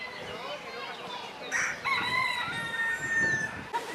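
Several roosters crowing repeatedly in Spain, overlapping calls near and farther off, against a busy outdoor background with clucking.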